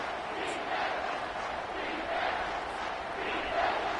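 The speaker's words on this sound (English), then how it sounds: "Third down, and this crowd is tearing the lid off this place." Football stadium crowd roaring steadily through a third-down play in a college game against Michigan, a loud, continuous wash of cheering that swells slightly toward the end.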